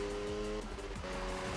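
Tires squealing as a Mazda RX-7 drifts in the game Need for Speed 2015, a sustained tonal screech layered over engine drone, brief and steady with a short dip midway.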